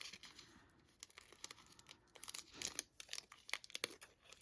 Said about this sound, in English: so I'm actually just going to cut it.